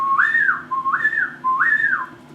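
A person whistles three rising, wavering notes in a steady rhythm, imitating a loon's call, clear and close with nothing else around.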